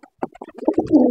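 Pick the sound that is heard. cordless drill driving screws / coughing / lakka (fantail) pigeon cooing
lakka (fantail) pigeon cooing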